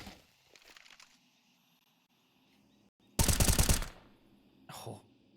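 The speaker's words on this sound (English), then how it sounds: "Oh, wall bangs almost connect for a kill." Wall-bang gunfire in a Counter-Strike pro match: a sharp, loud burst of rapid automatic shots, then a shorter second burst, after quieter game ambience and distant chatter.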